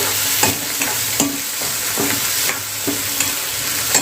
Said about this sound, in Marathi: टॅमॅटो चिरून घातलेले आहेत त्यालाही चांगला आपण फ्राय करून घेऊया